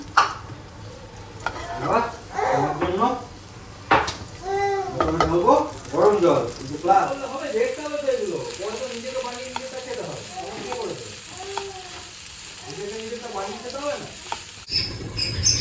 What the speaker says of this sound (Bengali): একটুখানি তেল আর বাটার দিয়েছি দিয়ে দিচ্ছি একটু রসুন